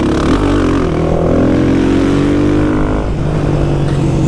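A Honda Twister motorcycle with a GRS exhaust runs loud and close, its engine droning steadily with a rising pitch and a brief dip near the end.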